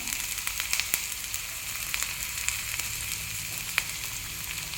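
Onions sizzling and crackling in hot oil in a pan at the start of a beans stir-fry, a steady close frying hiss with scattered sharp pops, no voices.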